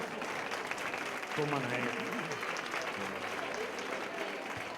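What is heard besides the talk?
audience applause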